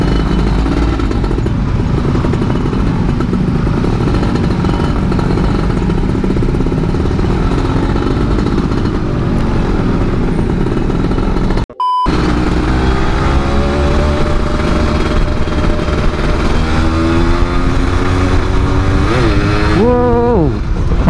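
A 2002 Yamaha F1ZR motorcycle with its body panels removed rides through busy traffic, its two-stroke engine buzzing and clattering close by. After a brief dropout the engine revs up and down repeatedly, with occasional faint speech.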